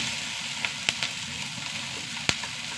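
Onions fry with curry leaves in hot oil, a steady close sizzle with a few small crackling pops scattered through it.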